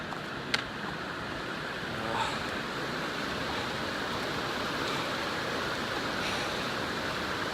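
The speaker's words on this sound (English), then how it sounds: "I can hear the water now" Continuous rushing water from a mountain stream near Pinchot Pass in the Sierra Nevada fills the scene, a steady broadband wash flowing nearby, with no voices.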